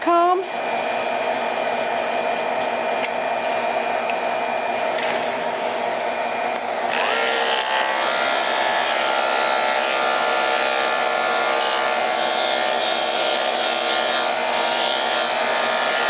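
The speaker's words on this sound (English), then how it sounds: "we are talking about the hair vac because it's my favorite. I use it on every single dog, every time." A Hair Vac grooming vacuum runs steadily while a Yorkie is groomed, a loud continuous whine and airy rush whose pitch shifts partway through, then holds evenly to the end with no talk.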